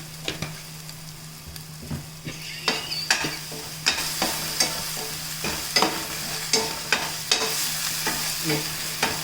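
Ivy gourd masala curry with salt and turmeric fries in a pan under a soft, steady sizzle, punctuated by rhythmic, close scrapes of a spoon stirring against the pan, with no talking.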